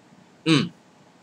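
A single short hiccup from a man eating a Carolina Reaper chile pepper, close and fairly loud against quiet room tone.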